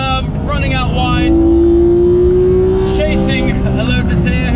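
Manual Porsche 991 GT3 engine lapping the Anglesey circuit, a loud sustained high-revving wail whose pitch climbs steadily through the gear, with a voice talking over it.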